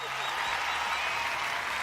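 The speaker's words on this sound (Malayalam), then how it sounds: "കയ്യടി." Game show studio audience clapping on a Malayalam TV set, a steady wash of applause with voices and a low musical tone running beneath it.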